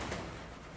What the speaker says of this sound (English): So we've got like, obviously the pigeons again.